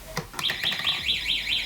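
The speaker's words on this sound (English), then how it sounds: "the traffic gates will work hand in hand with the red robots to close, and the sound alarm will be heard" Railway level-crossing alarm as the traffic gates close, a loud warbling electronic tone rising and falling in steady cycles, preceded by a few brief knocks.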